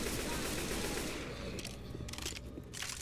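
Gunfire in the video game Left 4 Dead 2, a dense, sustained rattle of shots that fills the whole moment and blends with other game noise.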